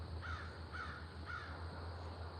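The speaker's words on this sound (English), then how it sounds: "I hear crows." Crows caw outdoors in a short series of three hoarse calls at a moderate distance, steady low hum underneath.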